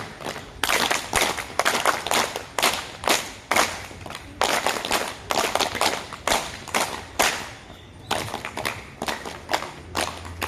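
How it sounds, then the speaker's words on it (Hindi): Group of participants at an International Yoga Day gathering claps together in a steady rhythmic pattern, sharp claps grouped in repeating counts of three, loud and close with brief pauses between sets. "राम ताली 1 2 3 1 2 3 1 2 3"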